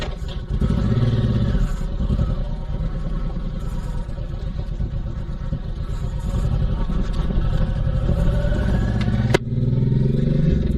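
A Honda VTX1800C cruiser rumbles along an offroad track on a foggy autumn ride, its engine droning steadily near the mic with clattering from the rough ground and a sharp knock near the end.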